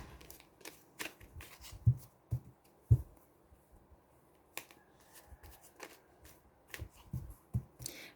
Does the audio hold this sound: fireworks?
no